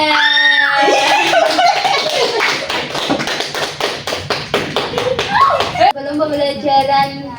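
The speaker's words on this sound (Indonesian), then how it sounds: "Beri aplaus untuk Diana." An audience in a classroom lesson applauds for Diana, a burst of many hands clapping close by with laughter and voices mixed in, fading after a few seconds.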